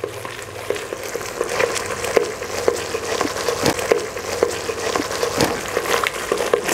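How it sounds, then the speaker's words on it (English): Panang curry paste sizzles and fries in a pan while being stirred, with a constant crackling hiss broken by repeated scraping strokes of the utensil against the pan. "Keep stirring your Panang until it splits."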